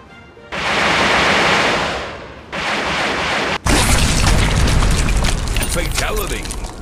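A loud, roaring burst of noise and booming impacts from a fatality finishing move in the Bowmasters video game, building up, dipping briefly, then cutting into a heavier rumbling blast.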